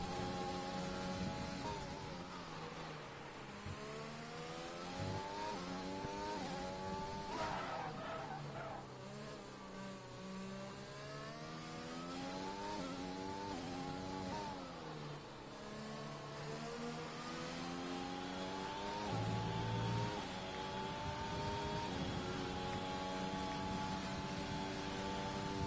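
Onboard engine of a Racing Point Formula 1 car in F1 2020 at the Hungary circuit, a loud continuous high-pitched whine rising and falling through gear shifts and revs, with faint commentary underneath.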